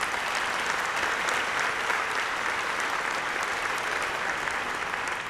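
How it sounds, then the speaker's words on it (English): A university audience gives a big round of applause, a thick, continuous roar of many hands clapping at an even loudness throughout. "Big round of applause for the article this weekend"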